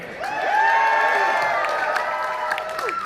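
A convention crowd at San Diego Comic-Con claps and cheers, a steady wash of applause with scattered whoops, moderately loud and continuous.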